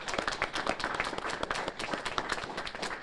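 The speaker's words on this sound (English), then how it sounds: "Can I get everybody here just to clap for them for a second?" Audience applause at an evening press briefing by officials after a street homicide, a dense steady wash of many hands clapping close by for about three seconds, without voices.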